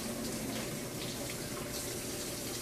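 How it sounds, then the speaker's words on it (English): Cold tap water runs steadily into a sink over a pot of eggs, a constant, close, full rushing stream that goes on throughout with no voices. "just take your pot over to the sink and run cold water over"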